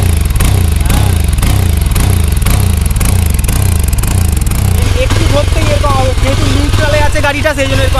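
A 2023 Yezdi Adventure motorcycle engine revs up close, a loud rough mechanical thrum that rises in pitch toward the end, running continuously.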